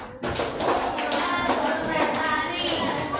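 A classroom of students claps out rhythm codes in unison, a dense burst of many hands striking together that continues steadily at close range, with children's voices mixed in.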